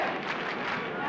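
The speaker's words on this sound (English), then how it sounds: "Skibbereen chant and cheer." Skibbereen supporters at a 1992 Gaelic football match between O'Donovan Rossa and Nemo Rangers chant and cheer as a steady, dense crowd roar that holds at an even level for about a second.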